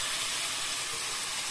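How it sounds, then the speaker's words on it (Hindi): Tomato paste dropped into a pan of frying capsicum gives a steady, bright sizzle and hiss, close and unbroken, with no talk over it. "शिमला मिर्च को हम कुछ सेकंड पकाने के बाद इसमें हमारा जो पेस्ट है टमाटर का, अब हम वो डाल देंगे इसके अंदर"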